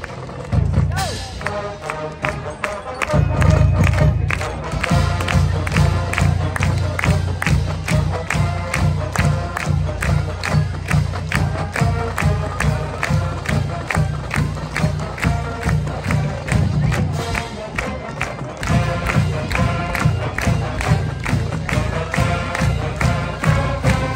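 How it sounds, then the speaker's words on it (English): A high school marching band plays the Rochester fight song at a Friday-night football game against Farmington, loud and driving, while the stadium crowd claps along in a steady beat and cheers throughout. "sing and clap along as the Falcon Marching Band plays the Rochester High School fight song."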